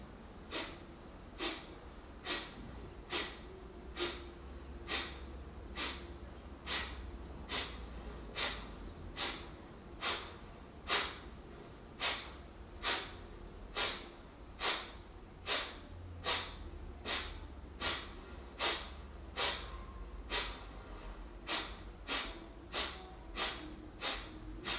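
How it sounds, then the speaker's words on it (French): Kapalabhati breathing through the right nostril with the left nostril blocked: short, forceful nasal exhalations at a steady pace of about one per second, close and distinct, more than twenty in a row. "En bouchant la narine gauche, vous allez uniquement respirer par la droite."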